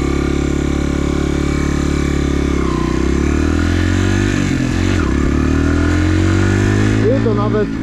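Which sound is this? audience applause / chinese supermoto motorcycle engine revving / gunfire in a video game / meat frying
chinese supermoto motorcycle engine revving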